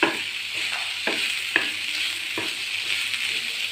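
Chopped tomato is stirred into a frying mixture for potato vada, a soft steady sizzle cut by several sharp spoon scrapes against the pan at irregular intervals, with no voices.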